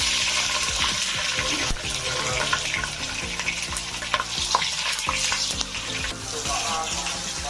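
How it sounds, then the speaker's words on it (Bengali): Black cumin seeds, a torn bay leaf and green chillies hit hot oil for a spicy fish curry, setting off a loud, busy sizzle with sharp spattering pops and scraping stirs throughout. "আমি ওই তেলের মধ্যে কালো জিরে একটা তেজপাতাকে ছিঁড়ে দেব আর কাঁচা লঙ্কা"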